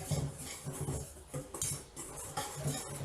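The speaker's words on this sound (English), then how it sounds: "I'm going to give it a little whisk." Dry ingredients for ginger spice cookies being whisked in a bowl, a quick run of metallic clinks and scrapes against the bowl in uneven bursts, close and fairly loud, with no talk.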